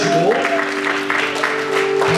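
A church congregation applauds for its leaders, a steady spread of clapping that runs the whole time under sustained musical tones.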